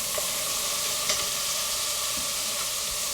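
Carrots frying in olive oil in a pan give a steady, dense sizzle and hiss close up, continuous and even with faint stirring, no voices over it.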